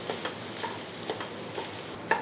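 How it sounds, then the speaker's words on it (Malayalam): Spice powders for beetroot pickle stirred in oil over a low flame, a soft steady sizzle with light, evenly spaced scraping taps. "മുക്കാൽ ടീസ്പൂണൊക്കെ ലോ ഫ്ലെയിമിൽ തന്നെ ഇളക്കി കൊടുക്കാം"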